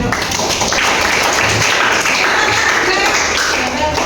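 Schoolchildren in a classroom clapping for classmates, a loud, close, scattered patter of small hands mixed with excited chatter and voices throughout.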